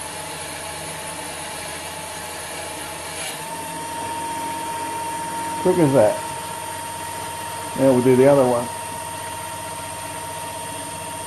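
A 775 DC hobby motor spindle on a lathe cross-drills soft cast iron, giving two short bursts of cutting about two seconds each over a steady motor hum, close by, with someone talking briefly.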